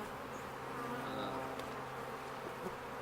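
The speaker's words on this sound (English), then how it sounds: "I'm going to add a few more bees to it" A steady, even drone of many honey bees fills the air around an open hive during a split, constant and close with no pauses.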